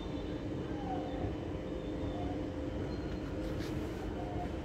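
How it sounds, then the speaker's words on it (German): A Regionalexpress RE3 train, with a class 147 locomotive at the rear, departs a station in a steady, continuous rumble at moderate distance, a faint tonal hum running underneath. "Und der RE3 fährt ab nach Lutherstadt in Merkau Bahnhof."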